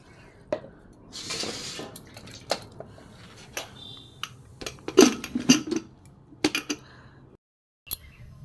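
Water is poured into a pressure cooker while cooking an egg and green jackfruit dish, with a short splashing pour and sharp metallic clinks and knocks of the pot and utensils around it, nearby and intermittent.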